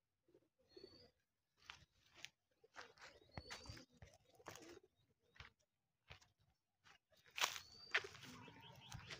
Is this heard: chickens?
no